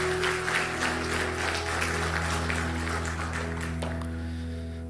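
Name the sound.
church congregation applauding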